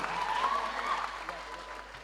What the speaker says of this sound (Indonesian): Tepuk tangan untuk Dr. Gamal Albin Said.